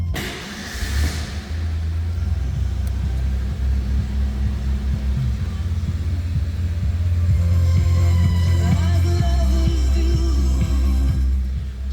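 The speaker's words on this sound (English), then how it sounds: "Let's go ahead and fire this up so you can hear it run." A 1989 Ford Ranger XLT 4x4 cranks and fires from cold, then settles into a steady, close, rumbling idle that climbs briefly in revs partway through.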